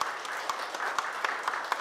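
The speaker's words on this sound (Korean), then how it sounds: "큰 박수로 환영해 주시기 바랍니다." Applause fills the hall at a Buddhist lay-missionary certification ceremony, a dense, steady clapping from the audience with a few louder claps rising above the wash.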